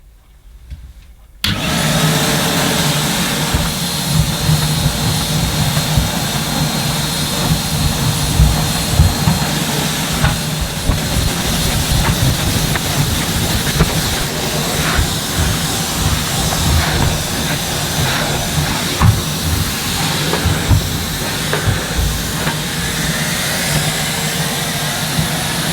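A Numatic Hetty HET160-11 yellow vacuum cleaner runs loud and close with a steady, high-pitched whine and airy roar that starts abruptly and holds for the whole stretch.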